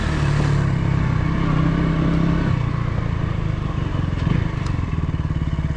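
A KTM Duke 200 motorcycle rides through a dip covered with loose sand and mud. The engine drones steadily and close up, with some rattling clatter partway through and no talking.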